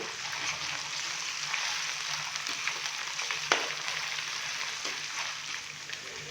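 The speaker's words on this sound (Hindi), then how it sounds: "अदरक और लहसुन के पेस्ट को हल्का सा फ्राई करेंगे।" Ginger garlic paste fries in a pan for a beef masala curry, a steady bright sizzle that continues throughout with small crackles and one sharper pop near the middle, no voices.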